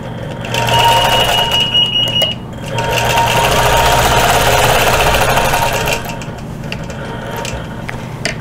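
Sewing machine in stitch regulated mode stitching a quilt border along a ruler, a loud steady mechanical whir that runs in close-up bursts, slowing briefly and picking up again before easing off.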